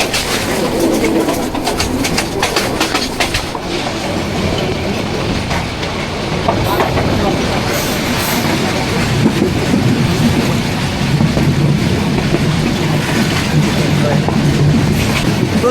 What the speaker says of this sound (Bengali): ভারত বাংলাদেশের সীমান্ত দিয়ে আমাদের ট্রেন যাচ্ছে